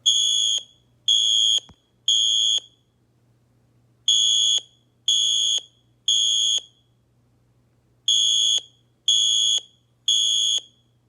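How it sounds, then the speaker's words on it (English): Siemens fire alarm sounding in a temporal pattern, three loud shrill tone bursts, a pause, then the same three-beat group repeated twice more, each beat about half a second long and sharply cut. "I'm going to be comparing some alarm sounds."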